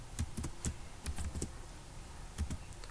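Java code being typed on a computer keyboard: quick bursts of close key clicks in short irregular clusters with pauses between.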